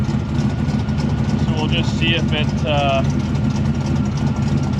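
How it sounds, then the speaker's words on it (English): A 1955 Chevy Nomad gasser sits idling after its engine computer was reprogrammed, a loud, steady, rumbling drone that runs unbroken throughout while someone talks briefly over it. "It seems to be idling now."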